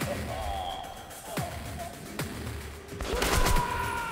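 Gunfire in the video game Metro: Last Light, a few sharp separate shots spread over several seconds and then a heavier burst, set against a quiet background.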